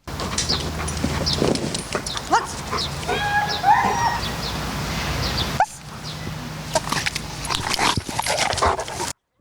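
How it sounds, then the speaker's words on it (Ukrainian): Rescue service dogs at a training session with a favourite ball toy, one of them a nine-year-old German Shepherd, give short barks and yips over steady outdoor noise, with a quieter stretch near the end. "Показує, дресирує собак, заохочуючи їх отримати улюблену іграшку м'яч."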